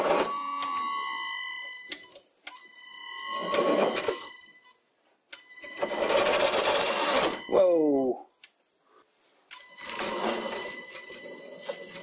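A vintage lathe with a sliding spindle headstock cutting threads into wood, in several separate runs of whining, ringing machine noise broken by short pauses and a few quick squeaks, with no talk over it.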